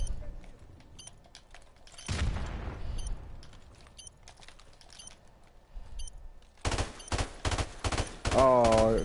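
Rapid automatic gunfire and shots in Call of Duty: Modern Warfare Remastered, bursts of loud rattling fire with quieter single shots between, ending in a dense, heavy volley; players talk over the game.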